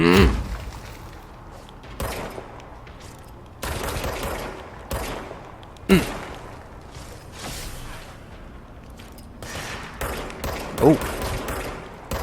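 Enemy gunfire in the video game Control: bursts of rapid shots and sharp cracks recur through the clip, loud and close, with brief exclamations from a player over the top.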